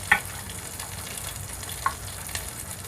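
Asafoetida sizzles softly in a pan over a low flame while a vegetable mung dal pulao is being cooked, a faint, steady frying hiss broken by a couple of small sharp crackles.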